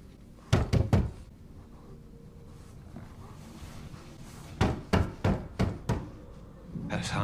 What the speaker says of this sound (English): So who's knocking? Because I can hear it.